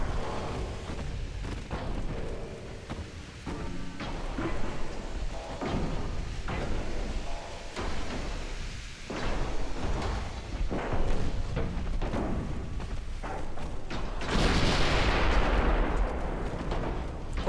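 Naval gun salvos boom in the Ultimate Admiral Dreadnoughts warship game: repeated heavy thumps and blasts roll over a dense, continuous battle rumble, with a louder hissing burst near the end.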